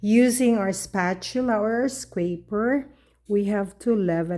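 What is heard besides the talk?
No everyday noises stand out.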